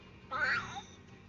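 A person imitates a cat with a single short, rising meow, close and fairly quiet.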